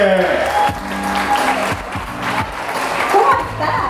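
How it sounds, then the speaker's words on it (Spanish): An audience at a stand-up comedy show breaks into loud, sustained applause, with a host's voice speaking over the clapping throughout. "Fuerte el aplauso, Sole!"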